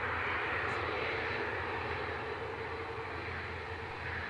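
A C-17 military transport aircraft at windy Edinburgh Airport produces a faint, steady distant engine rumble with a hissing, broadband texture. It holds constant throughout with no voices.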